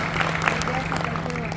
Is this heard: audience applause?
yes